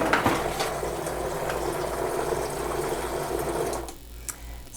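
Electric mixer whirring steadily through banana pancake batter, a close, continuous buzzing drone that cuts off near the end and leaves a brief quiet with a small clink.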